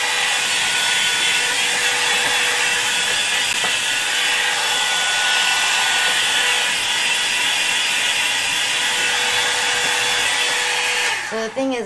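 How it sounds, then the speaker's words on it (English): A hair dryer blowing hot air to dry mica ink in a cup, a steady loud whooshing roar held evenly for about eleven seconds before it cuts off abruptly at the end. "So you're going to have to listen to my hair dryer"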